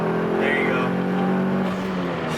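A Mitsubishi Lancer Evo 9 accelerates hard with its engine droning loudly and steadily from inside the cabin, the tone climbing slightly over about two seconds.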